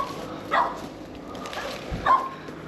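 Dogs barking somewhere in a rural village, two short distant barks about a second and a half apart over faint background noise.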